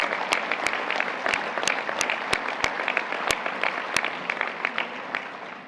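An audience at the U.S. Soccer Annual General Meeting applauds the referees, a dense, steady clapping from many hands with a few sharp, close claps standing out, continuing throughout.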